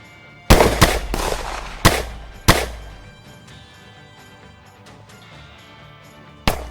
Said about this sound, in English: Both sides firing at puffs of smoke and movements in the distance.